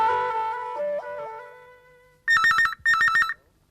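A telephone rings at home in two loud electronic trilling bursts, following a sustained melodic tone and with no talk.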